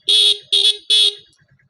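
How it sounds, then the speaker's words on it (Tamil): Three short honks from the horn of a 2017 TVS XL 100 moped, each a bright, buzzy toot of under half a second, sounded close by in quick succession, followed by faint background clatter. "ஹார்ன் அடித்து காமிக்கிறேன்"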